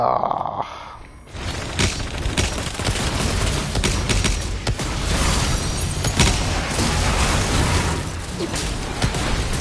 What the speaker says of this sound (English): I also forgot I have a rocket launcher.